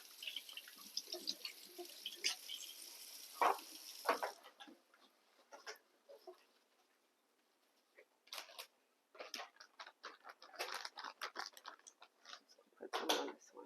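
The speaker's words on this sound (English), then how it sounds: "Let me rinse my hands first before I dig in that cheese." Water running from a tap into a sink while hands are rinsed before handling cheese in a home kitchen, a steady faint splashing for the first few seconds, then scattered drips, clinks and handling noises with no talk.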